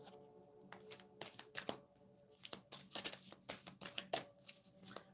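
Tarot cards being shuffled in quick bursts of riffling and flicking snaps, close and fairly quiet, with no talking.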